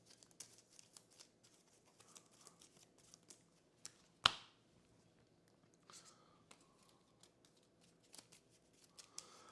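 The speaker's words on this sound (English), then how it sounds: "so we've shuffled his thingy deck" Soft riffling and tapping of a card deck being shuffled at a Kingdom Death Monster tabletop session, quiet close clicks with one sharp snap midway and faint talk in the background.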